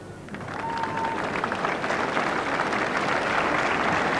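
Applause from the crowd at a 1986 Wimbledon quarterfinal on Number 1 Court swells into a steady, dense wash of clapping that holds for several seconds, with no talk over it.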